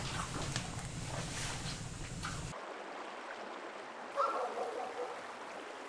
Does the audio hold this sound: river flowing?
yes